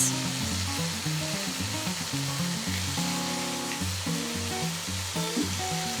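Butternut squash and carrots sizzle in a pan with a steady, close frying hiss, with background music playing over the sizzle and no speech.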